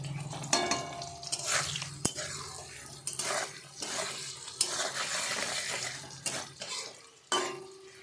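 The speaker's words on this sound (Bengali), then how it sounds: "হলুদ লবণ দিয়ে আলুগুলো ঢেকে কিছুটা সময় ভেজে নেব।" Potatoes frying in a pan with turmeric and salt, a steady close sizzle broken by scraping stirs and light clinks of a utensil against the pan.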